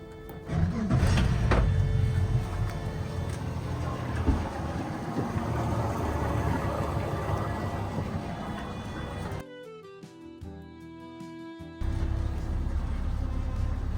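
A Yamaha outboard motor on a 2024 Jeanneau NC 795 Weekender boat starts and runs with a steady, loud engine drone, cuts out briefly to near quiet with a tonal whine, then resumes its low rumble.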